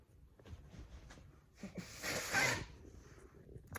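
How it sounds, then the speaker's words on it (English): A single close, forceful nose blow rises to a breathy peak and fades, preceded by a few quiet sniffs and rustles. "I just had to blow my nose"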